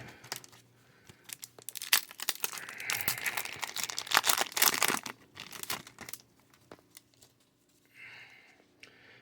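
A Darkwing Blast trading card booster pack torn open close by, a few seconds of loud crinkling foil and ripping, then quieter rustling of cards.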